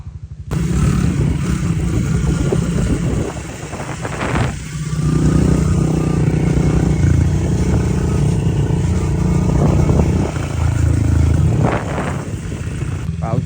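Pit bike engines revving and riding close by on a dirt outing, a steady loud motorcycle drone that rises and falls with throttle bursts, with no talk over it.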